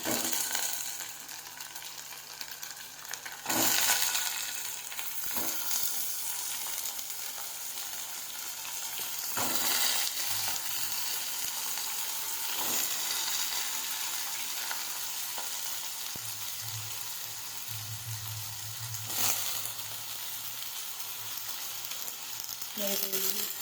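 Chopped ridge gourd fries in a pan with a continuous close sizzle, broken every few seconds by sharp knocks of a stirring spoon against the metal, with a low background hum and no clear talk.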